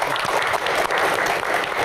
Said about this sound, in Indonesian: tepuk tangan untuk Coach Indra